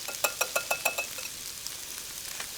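Batter sizzles in a hot pan during Korean home cooking, opening with a rapid run of sharp crackling pops that settle into a softer, steady frying hiss.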